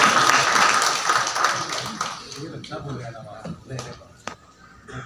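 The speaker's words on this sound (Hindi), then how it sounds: "आपकी भरपूर तालियों में।" Audience at a retirement tribute ceremony applauds to welcome Mohammad Afzal Shahid: dense, loud clapping for about two seconds that thins and fades into scattered claps under a speaking voice.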